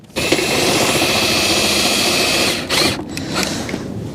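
Power drill winding down caravan corner legs, a loud continuous whirring motor with ratcheting texture running for a couple of seconds, then stopping and restarting in short bursts.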